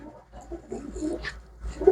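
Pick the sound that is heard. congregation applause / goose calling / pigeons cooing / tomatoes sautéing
pigeons cooing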